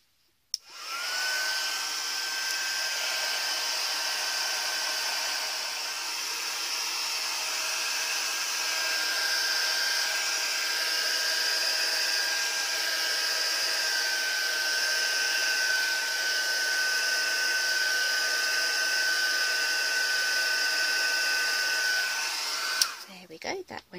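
A handheld heat tool melts embossing powder on glassine paper. It is a steady, loud blower whir with a thin whine on top, switching on near the start and cutting off at the end, with no one talking.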